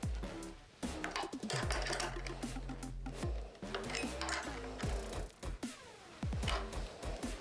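Bolts of a Mustard Bikes tail tidy on a 2024 KTM Duke 990 or Superduke 1390 are tightened, with repeated close ratcheting and whirring bursts of a tool, stopping and starting in short runs, loud and without talk.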